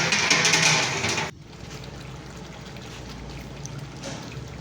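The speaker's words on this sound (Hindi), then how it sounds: "डेढ़ किलो ऑयल डाल दिया।" Cooking oil pours into a large pot of beef korma for a village feast, a loud gushing splash lasting over a second, then a softer, steady sizzling simmer continues.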